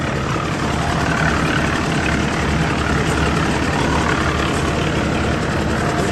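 Vehicle engine running, a loud, steady, close rumbling drone that holds level throughout with no break.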